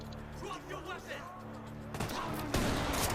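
Gunfire in the tactical shooter Ready or Not breaks out in loud bursts toward the end, following a stretch of excited talking by players.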